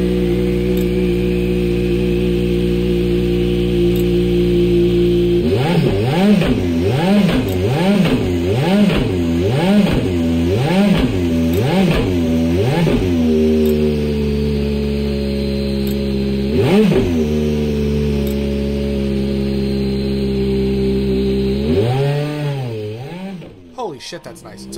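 A Toyota GT1 race car with a mid-mounted 3.6-litre twin-turbo V8 revs hard in Gran Turismo 7, a loud, close engine note climbing and dropping in a rapid series of blips before a final long rev.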